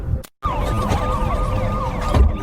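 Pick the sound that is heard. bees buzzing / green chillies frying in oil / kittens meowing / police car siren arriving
police car siren arriving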